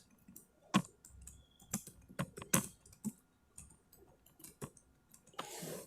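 Typing on a computer keyboard while an email subject line is entered, heard as irregular close, crisp key clicks in short bursts over a quiet room, ending in a brief soft rustle.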